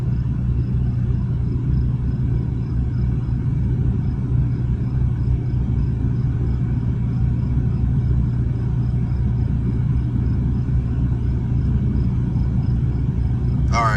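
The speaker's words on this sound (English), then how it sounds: "So you can see the car is idled down." A Ford Focus RS engine idles with the heat running while it is checked for overheating, a steady low rumble that holds evenly and close throughout.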